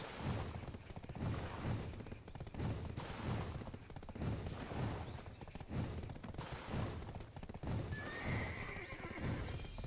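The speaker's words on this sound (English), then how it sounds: "I see someone just riding the horse" Horse neighing and hoof clip-clops in the online game Black Desert Online, with repeated rhythmic hoof beats throughout and a whinny rising near the end, fairly loud and steady without speech.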